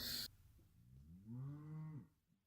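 A single cow lets out one drawn-out moo of about a second, fairly close and clear against a quiet background, after a short burst of noise at the start.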